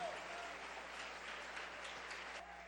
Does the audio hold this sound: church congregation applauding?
yes